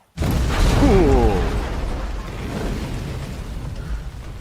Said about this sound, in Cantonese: 爆炸快走啦！